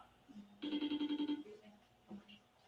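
An outgoing online call rings on a phone: a single burst of rapid, pulsed electronic ringing lasting under a second. Quiet background sounds surround it.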